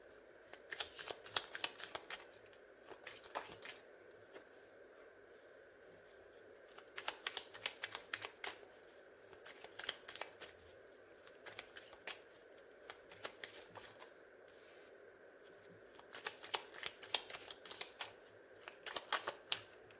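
Tarot cards shuffled by hand in repeated bursts of crisp riffling and flicking, with quiet pauses between rounds; close, fairly soft, and no talking.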